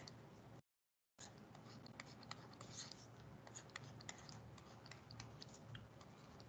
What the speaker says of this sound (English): Okay, so I'll just write it down here.